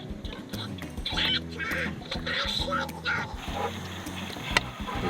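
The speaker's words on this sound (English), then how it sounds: "We're watching some Donald Duck." Donald Duck cartoon playing on a screen inside a van in freezing Sweden: raspy quacking cartoon voice chatter amid music and other character sounds, moderately loud and continuous.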